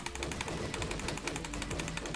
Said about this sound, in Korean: 오 총소리가 레벨업 할수록 달라지는걸